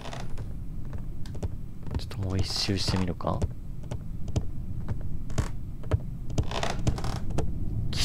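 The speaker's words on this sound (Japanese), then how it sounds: "ギシギシギシギシ音がたまらなく怖い。" Wooden creaking in an abandoned old house inside a horror video game, a run of repeated groaning creaks mixed with footstep-like clicks under a person talking quietly.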